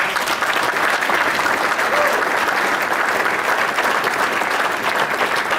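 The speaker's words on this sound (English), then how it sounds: "Please give them all a round of applause." A large audience at a golf industry conference session applauds in a dense, steady roar of clapping that holds evenly for several seconds.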